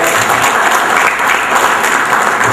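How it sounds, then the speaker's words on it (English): Steady, dense applause from a crowd at an IT fair panel discussion, clapping continuously at full volume throughout with no pauses. "Let's give a round of applause to this gentleman over here."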